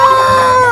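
A toy rooster sounds a loud, close electronic crowing call, one sustained bright cock-a-doodle-doo tone held steadily before cutting off.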